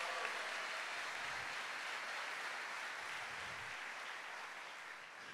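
A church congregation applauding during a Portuguese-language sermon, steady, fairly faint clapping from many hands that tapers slightly toward the end.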